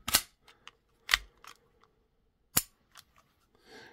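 Magazine ejected from a Hi-Point CF380 pistol: a few sharp metallic clicks and clacks, close and distinct, separated by brief silences, ending with a soft rustle.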